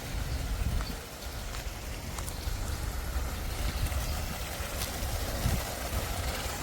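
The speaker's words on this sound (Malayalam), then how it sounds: "വെള്ളം ഇങ്ങനെ പമ്പ് ചെയ്ത്" A water pump on a desert vegetable farm in Bahrain pushes water into an irrigation channel, making a steady, rushing mechanical drone mixed with outdoor wind noise, continuous and moderately loud.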